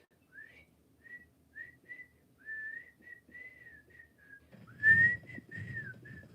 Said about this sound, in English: Why are you whistling on the radio?